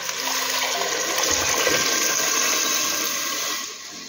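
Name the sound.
hot water poured into soup pot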